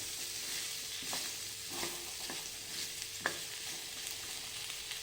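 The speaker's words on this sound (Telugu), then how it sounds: "అడుగు పట్టకుండా కలుపుకోవాలండి" Okra (bendakaya) frying in a pan while being stirred, a soft steady sizzle with scattered scraping clicks from the spoon, quiet and close with no talking.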